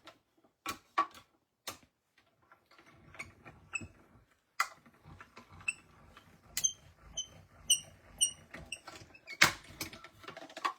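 A mini cut and emboss machine runs on a craft table, producing sparse mechanical clicks and ticks with faint creaky squeaks, close and fairly quiet with pauses between.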